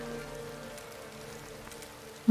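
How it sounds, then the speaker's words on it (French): In the turn-based strategy video game Crown Wars, rain falls as a soft, even patter behind faint sustained musical tones, with no voices over it. "Il pleut."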